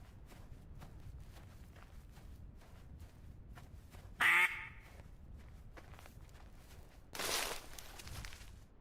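A duck quacks faintly in the distance in the hunting game Way of the Hunter 2. Two short calls stand out above a steady patter of footsteps moving through vegetation.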